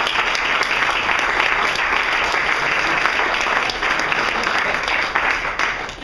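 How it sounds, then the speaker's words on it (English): A small business group audience applauds steadily for the whole stretch, a dense, continuous clatter of many hands at even loudness, with no talk over it. "I'll give a round of applause"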